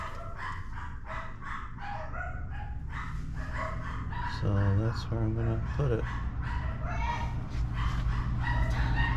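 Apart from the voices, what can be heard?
dogs barking indoors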